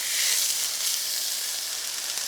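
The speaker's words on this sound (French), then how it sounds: "On va continuer par faire suer nos légumes à l'huile d'olive." Sliced fennel sweats in olive oil in a pan, giving a steady, close, even sizzle with a bright hiss and no talking.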